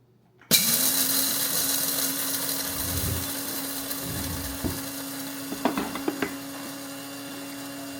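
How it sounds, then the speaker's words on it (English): Electric coffee grinder grinding coffee beans in a home kitchen, starting abruptly with a steady motorized whine and rattling beans, staying loud and continuous with a few sharper clatters near the end. "we're gonna tighten the lid on the coffee grinder"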